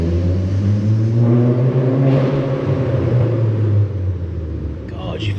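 A Stage 2 tuned VW Polo GTI on a night drive, its engine droning and rumbling loudly from inside the cabin, swelling as it revs and then easing off near the end, with a voice speaking over it.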